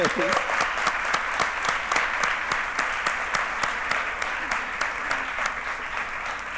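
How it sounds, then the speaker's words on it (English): A crowd applauds steadily, a dense wash of clapping that holds at an even level from start to finish. "we need a round of applause for my parents"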